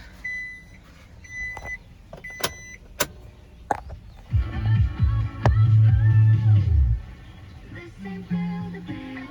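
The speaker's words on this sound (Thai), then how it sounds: "กระจกปรับไฟฟ้านะคะ" The electric windows of a 2020 Isuzu D-Max 3.0 S pickup with a manual gearbox whir up and down in a steady motor drone, preceded by several sharp clicks and beeps inside the cab, close and without talk.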